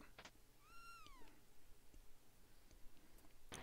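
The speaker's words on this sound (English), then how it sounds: "I think that's actually Chrono's cat" A cat in the video game Chrono Trigger gives a single short, gliding meow with a falling pitch, fairly clear over faint background game sounds and a few soft clicks.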